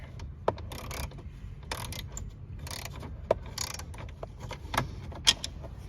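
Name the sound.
undoing a screw on a 2010-2012 Ford Taurus dash panel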